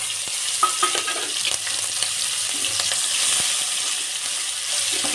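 Onions sizzle in hot oil in a pan, a loud, steady hiss and crackle close up, with occasional stirring clinks and no talking.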